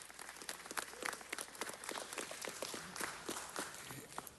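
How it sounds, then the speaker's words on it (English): A crowd at a city council meeting claps steadily for several seconds, a dense patter of many hands at moderate distance, without cheering. "Let's give a big round of applause to Angelo Jackson."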